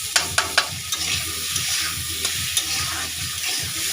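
Tomato and green chilli are stirred and sizzle in a pan for a chicken soup, with a steady loud frying hiss, several sharp spoon clacks against the pan at the start, and rhythmic stirring scrapes throughout.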